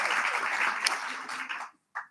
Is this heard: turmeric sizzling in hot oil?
no